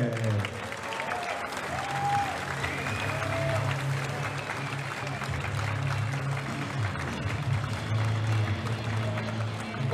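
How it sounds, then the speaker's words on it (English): Crowd applause for a super heavyweight left-arm wrestler being introduced at an East vs West arm wrestling event, a steady wash of clapping and cheering over a low hum, with an announcer's voice ringing through the hall. "please give a round of applause for the Golden Dragon, Kamil Jablonski!"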